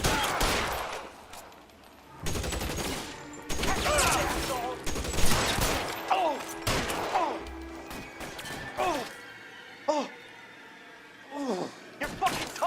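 Gunfire during a shootout in the video game L.A. Noire, scattered loud shots and crashing impacts mixed with shouting voices and game sounds, coming in irregular bursts.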